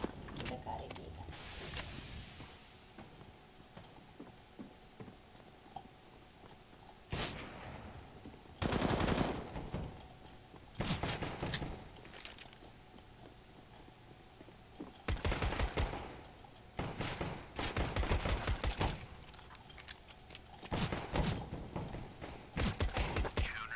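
Pistol fire from Counter-Strike: Global Offensive comes in scattered bursts of sharp shots between quieter gaps, with a voice talking in between.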